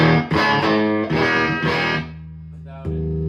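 Electric guitar played through a TopHat Rialto amp with reverb engaged, ringing chords with a distorted, effected tone, loud and close, decaying into a sustained note before a fresh strum near the end.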